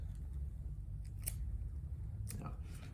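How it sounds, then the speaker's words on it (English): Scissors snip the ends off plastic drinking straws, two sharp, crisp cuts about a second apart over a low background hum, close and distinct. "Grab your scissors, and the first thing to do is just chop the ends off your straws."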